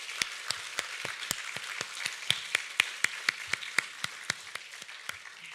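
A church congregation at a Thanksgiving Sunday service gives a burst of applause: sparse, individual claps rather than a dense roar, sharp and fairly close, with no talking over them.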